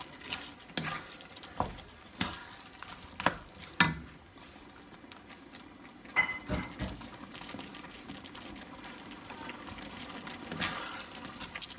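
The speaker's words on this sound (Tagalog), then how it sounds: "ilagay na po natin ang shrimp" Shrimp dropped into a hot pan for a seafood pasta sauce, with a few sharp clattering impacts and stirring scrapes over a steady, moderate sizzle, no voices.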